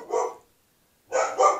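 Pet dogs barking indoors at home: a short bark, a pause, then a double bark, close and fairly loud with no talking.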